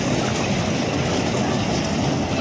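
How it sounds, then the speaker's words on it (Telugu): A small zoo park train arrives, its steady rumbling, rattling roll filling the air at close range as a continuous wash of noise, with no voices. "రైలు అయితే వచ్చేసింది."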